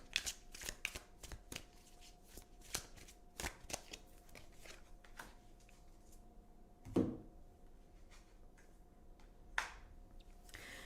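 Tarot cards being shuffled close up in a quiet room, with quick riffling bursts and crisp card taps coming in uneven clusters, plus one louder thump partway through, with no talking.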